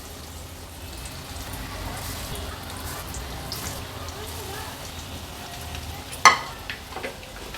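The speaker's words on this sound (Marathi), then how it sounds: "हे कोट केलेल्या कोलंब्या आपण तेलावर सोडणार आहोत" Coated prawns are slid into hot oil in a pan over medium flame, and a soft, steady sizzle follows. One sharp clatter comes near the end.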